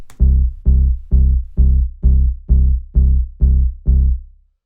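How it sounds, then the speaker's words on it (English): An acid techno synth bass hammers a low C on the upbeats, eight punchy, evenly spaced notes that each decay quickly, loud and isolated with no talk. "So all this bass is doing is it's just playing C on the upbeats."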